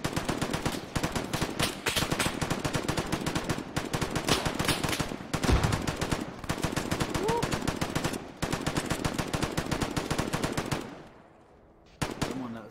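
Sustained machine gun fire in a military video game, rapid bursts rattling almost continuously with short gaps, then fading near the end before a final burst.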